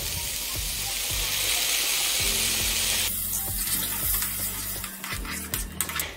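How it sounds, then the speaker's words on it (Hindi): Tomato puree goes into a pan of vegetables frying over a low gas flame, a steady sizzle that shifts and softens partway through as the puree lands, with a few clinks and stirring scrapes near the end. "अब हम इसमें डालेंगे अपनी टमाटो प्यूरी"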